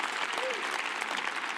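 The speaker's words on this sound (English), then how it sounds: "give me a round of applause on that one" Brief burst of audience clapping in a large conference hall at a Microsoft Ignite 2015 SharePoint session, dense and moderately loud, with a faint voice riding over it.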